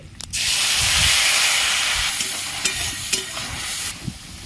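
Dry red chilli, bay leaf and five-spice seeds crackle in hot oil: a sudden loud, steady sizzling hiss that holds for several seconds with a few small pops, then cuts off, with no talking.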